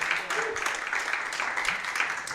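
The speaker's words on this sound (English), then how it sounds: "Another round of applause for that man." Audience members clap for a speaker after a technology talk at a Tuesday night discussion group, a modest, fairly quiet round of applause lasting a couple of seconds.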